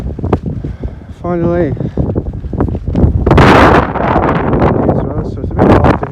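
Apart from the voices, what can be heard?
wind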